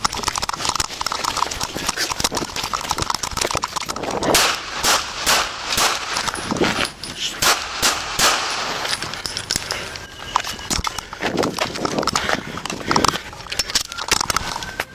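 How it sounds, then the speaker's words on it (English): Rapid bursts of gunfire during a police shootout at an apartment complex, with a dense series of sharp, loud cracks in irregular clusters across the whole stretch. "Shots fired."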